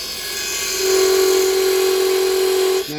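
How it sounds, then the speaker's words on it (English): A wood lathe spinning a small Christmas bird house with a finial while a parting tool cuts in, a loud steady hum with a sustained tonal whine rising partway through and holding, then easing at the end, no talk. "So I am going to actually use the parting tool first."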